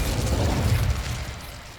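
Repulsor spell blast from Hogwarts Legacy: a loud, dense low-frequency burst with a rumbling tail that fades over about two seconds, alone without voices.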